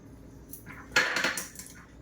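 A metal spoon scrapes and clinks inside a pot while salt is mixed into Andhra-style dum biryani ingredients with coriander, mint and lemon juice, a few short close clatters.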